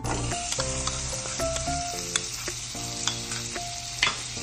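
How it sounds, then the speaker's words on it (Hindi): Butter melting in a hot pan while making paneer masala, a continuous close sizzle with crackling pops and occasional stirring scrapes, no talk. "तितून हांव बटर घालता"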